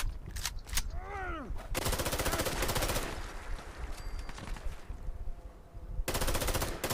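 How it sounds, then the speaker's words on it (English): Video game gunfire in Fallout 4: bursts of rapid automatic shots rattle in loud clusters with short pauses between volleys, alongside whooshing game effects, with no talk. "Oh, they're already firing at me and I've only just fucking landed here."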